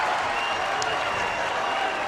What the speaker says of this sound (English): The capacity crowd loves it